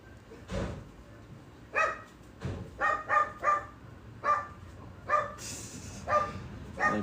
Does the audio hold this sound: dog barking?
yes